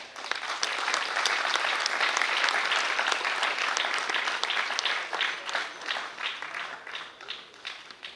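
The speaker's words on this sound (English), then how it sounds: "So let's have a round of applause for them." An audience at the Indian Sailing League event gives a loud round of applause that holds strong, then thins out and fades toward the end.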